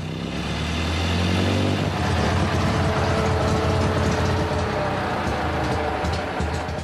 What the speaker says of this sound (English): And start with the engine, with a hefty turn of the crank.